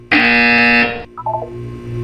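A loud electronic buzzer from the Portal 2 test chamber sounds alone for about a second, a steady harsh tone, followed by a softer burst of short electronic blips over a low hum.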